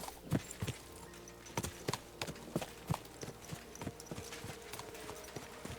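Steady clip-clop of horse hooves at a walking pace in the video game Kingdom Come: Deliverance II, crisp regular knocks over a quiet ambient background, no voices.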